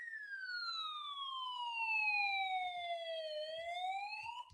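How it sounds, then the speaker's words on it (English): A wailing siren sound effect, a steady descending then rising electronic tone with strong harmonics, loud and continuous on its own. "we're gonna sound the siren"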